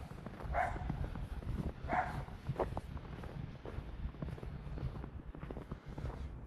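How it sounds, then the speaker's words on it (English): A small dog barks outdoors in snowy Interlaken, Switzerland, with two clear yaps near the start, then a few fainter barks over scuffling background noise. "Little dog making big noises."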